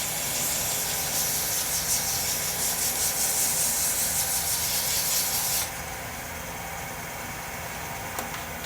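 Steady, close abrasive hiss of sandpaper rubbing a spinning resin pen blank on a lathe, with the motor's drone beneath; the sanding stops partway and the lathe keeps running alone.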